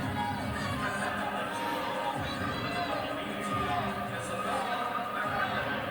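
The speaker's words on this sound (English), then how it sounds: "you hear the crowd is chanting a 10" A crowd at a women's college gymnastics meet between Kentucky and LSU, a continuous din of voices and cheering with a rhythmic chant rising from the stands, steady and fairly loud.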